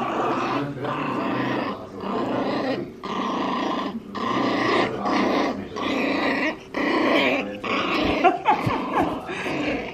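Bloodhound dog growling in a series of close, loud, rough rumbling bursts separated by short breaths, about seven or eight growls in a steady rhythm.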